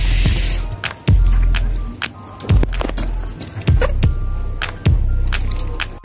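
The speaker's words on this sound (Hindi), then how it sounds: "ये देखिए मैं इसका सोयाबीन का अच्छी तरह से पानी निचोड़ के और इसमें डाल रही हूँ।" Boiled soya chunks are squeezed by hand to wring out the water, giving a series of wet squelches and splashy drips in an irregular rhythm, close and clear.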